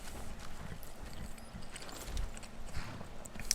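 Horse hooves clip-clop in a video game, a faint rhythm of soft, muffled steps continuing steadily throughout.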